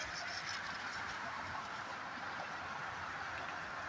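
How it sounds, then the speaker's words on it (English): Freight train with tanker cars rolling past, a continuous loud rumbling roar with broad hissing rail noise that stays steady and close for the whole stretch, no talking. "Still hear the train, it's so loud."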